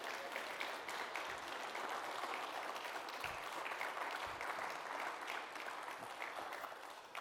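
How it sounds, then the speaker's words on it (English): A church congregation applauds a choir, steady clapping spread through the room, distant and quiet, continuing without talk. "We can give them a little applause."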